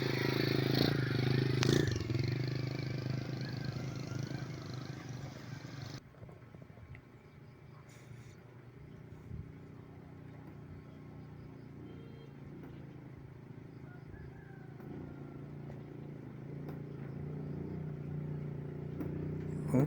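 A motorcycle carrying students struggles along a slippery road, its engine revving and rattling with scraping clatter, loud for several seconds and then dropping to a quieter, distant rumble.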